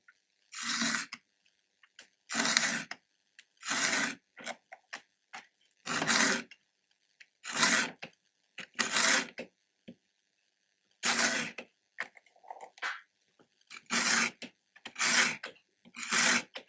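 Chainsaw teeth being filed with a chainsaw sharpener: a close, rhythmic series of rasping strokes, each about half a second long and separated by brief pauses, with no voices over them.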